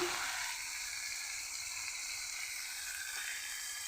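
Spice paste with turmeric and salt frying in a pan for a spicy dish of taro stolons and prawns, a steady close sizzle and hiss that holds evenly throughout with no talking.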